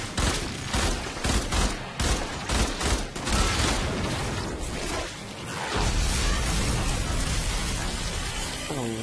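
Rapid gunfire in the video game Warframe, played as Volt Prime: dense bursts of shots crackle in quick succession, then give way to a steady, loud, noisy wash.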